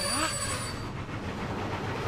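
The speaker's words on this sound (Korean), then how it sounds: "띠띠뽀, 앞에 기차가 있으니 조금 천천히 가자." A cartoon train running on rails in an animated children's show, with a steady rumbling roll and a brief squealing tone early on, continuous and fairly near.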